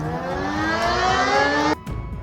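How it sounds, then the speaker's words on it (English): A tornado siren wails in one loud, steady, sustained tone that cuts off abruptly near the end, leaving a faint lower hum. "Next is Tornado Siren."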